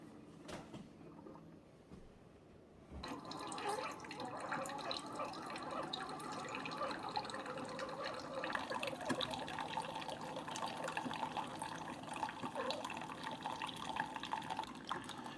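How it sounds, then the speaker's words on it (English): A Keurig coffee maker brews an 8-ounce K-Cup. A click starts it, then a steady hiss and bubbling trickle of liquid runs continuously, close by and with no talking. "8 ounce, let's brew."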